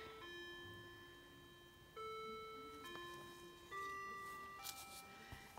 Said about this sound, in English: I really need to turn this clock off, but it's a pleasant noise.